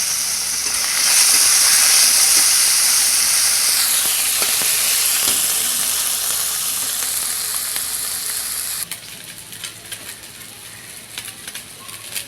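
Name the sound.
small fish with salt and turmeric frying in oil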